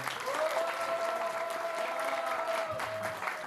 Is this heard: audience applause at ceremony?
yes